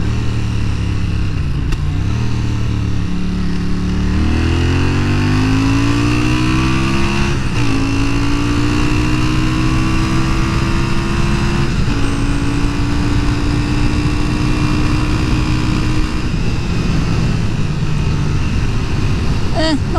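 A motorcycle engine, ridden as a replacement for a Harley-Davidson Sportster, revs up under acceleration with climbing pitch through repeated shifts, loud and close, with a rider's voice over it.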